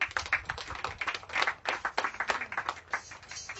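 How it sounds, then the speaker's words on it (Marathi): A church congregation claps together in a brief round of applause, the claps dense and uneven at moderate distance, fading slightly toward the end. "तिच्यासाठी एक टाळी वाजवा"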